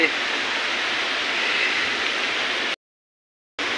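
Steady, dense hiss of heavy, flooding unseasonal July rain pouring continuously in Darewadi, then a sudden cut to silence before the downpour returns.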